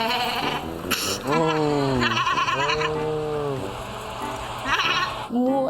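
Housemates vocally imitate farm animals, voices alternating between long wavering goat-like bleats and drawn-out moo sounds, loud and close, with brief breaks between calls.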